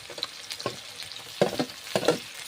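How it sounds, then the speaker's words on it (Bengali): Garlic paste goes into mutton already sizzling in a pan with fried onion and green chilli, giving a steady frying hiss broken by a few louder bursts of sizzle and stirring, close and with no talk. "এবার রসুন বাটা দিয়ে দিচ্ছি"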